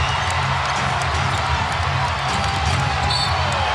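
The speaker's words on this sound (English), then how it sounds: "Listen to this crowd." Loud, steady roar of a Detroit Pistons home crowd cheering throughout a Celtics game, with squeaks and bounces from the court faintly underneath and a commentator's voice mixed in.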